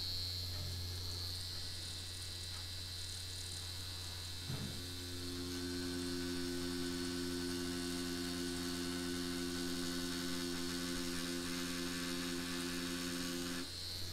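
An OG Produce Terminator machine, running at a 4mm stroke, gives off a steady electric hum with a constant mechanical buzz. It picks up a fuller, layered tone a few seconds in and holds it evenly and without voices to the end.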